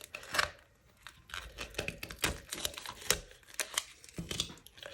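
Cured epoxy peels away from a plastic container in crisp tearing and crackling bursts, a close, fairly quiet run of irregular snaps and rips with short pauses between them.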